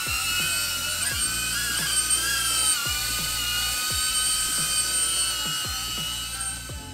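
Loud, steady high-pitched whine of DJI Avata cinewhoop drone propellers in flight, a dense buzzing with shifting pitch and repeated low thumps throughout, near and continuous.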